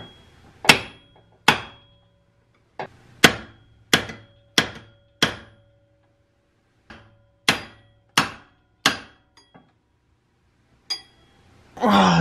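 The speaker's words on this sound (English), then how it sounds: "I'm gonna smack the top side with a hammer, and hopefully that shock will break it loose." Sharp hammer blows strike a steel extension to shock a stuck car part loose, about a dozen close metallic whacks in uneven bursts with pauses between, ending in a brief rustle.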